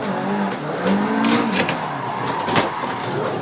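Nissan 180SX drifting in Assetto Corsa, its engine note droning and wavering as the car slides and bogs, steady and moderately loud with tyre scrub, no voices.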